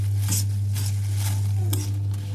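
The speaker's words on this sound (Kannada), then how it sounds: "ಮಸಾಲೆ ಘಮ ಬರ್ಬೇಕು, ಅಷ್ಟು ತನಕ ಹುರಿಬೇಕು" Spices and dried Byadgi chillies frying in a pan for hamour fish curry, a steady sizzle with soft scraping stirs and light clinks from the utensil.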